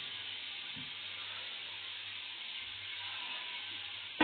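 Water poured into a hot pan of tempering spices while cooking a katla vegetable dish gives a steady, close sizzling hiss that holds evenly throughout, with a brief louder burst at the very end and no talking.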